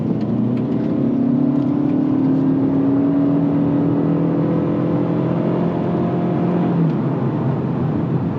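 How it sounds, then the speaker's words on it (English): A 2025 Toyota Camry Hybrid pulling hard in sport mode, a steady rising engine and hybrid whir heard from inside the cabin, pitch climbing smoothly before easing off near the end. "let's go ahead and put it in sport mode."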